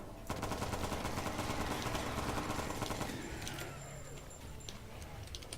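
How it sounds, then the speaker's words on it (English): Rapid bursts of submachine gun fire in a shooter video game, loud and dense rattling for a few seconds before tapering into quieter game ambience. "So there's your SMG."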